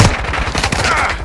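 Video game gunfire rattles loud and close in a fast, dense volley of overlapping shots throughout the short burst.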